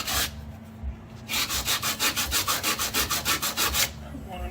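Primer and undercoating are sanded off a 1974 Pontiac Trans Am rear suspension part in rapid rhythmic back-and-forth strokes, close and loud, with brief pauses at the start and end.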